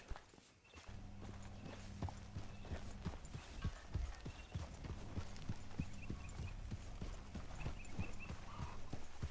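Horse hooves clip-clop at a steady walking pace in Red Dead Redemption 2, close and fairly quiet over a low background hum, with occasional faint movement sounds.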